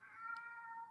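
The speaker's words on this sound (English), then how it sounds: "And a glad meow." A house cat gives a single drawn-out, fairly high meow, steady and close but soft, lasting nearly a second with no talking.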